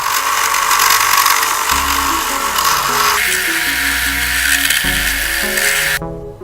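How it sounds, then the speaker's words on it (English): A Forstner bit drills 1/4 inch holes through the back of hardwood puzzle letters, a loud close power-tool whine with shifting pitch as the bit bites, ending abruptly, no voices. "I drilled 1/4 inch holes with a Forstner bit through the back side of the letters"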